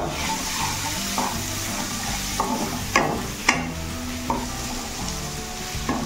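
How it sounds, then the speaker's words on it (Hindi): Tomatoes stirred into a sizzling snake gourd curry in a pan, with a continuous frying hiss and several scraping strokes of the spoon against the metal, close and clear, no talking. "टमाटो दे भल भाव मिसेदेवा"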